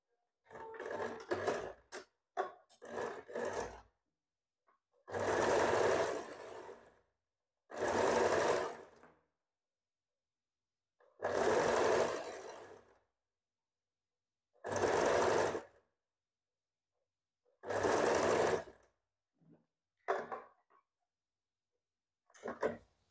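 A sewing machine stitches a princess cut blouse in a series of separate bursts, each lasting one to two seconds, with short stop-start runs at the beginning and end and silent pauses in between.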